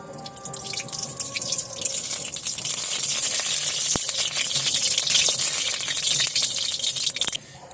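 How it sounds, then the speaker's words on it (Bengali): Oil poured into a hot kadai (wok) gives a steady, hissing trickle that runs without a break for several seconds, close and fairly loud, with no voices. "তো এবার এতে তেল দিয়ে দেবো কড়াতে"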